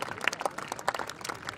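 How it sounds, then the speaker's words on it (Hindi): An audience claps at a Haryana sports show where stunts include pulling a Bullet motorcycle with the teeth. Scattered, fairly faint claps ring out in an uneven patter. "अरे भाई जोरदार तालियां"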